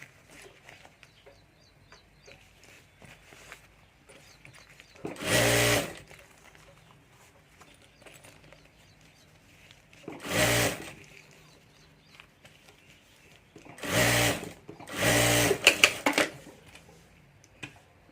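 A sewing machine stitches a handmade hand bag in several short, loud bursts of rapid mechanical clatter, separated by quiet pauses with faint handling noises.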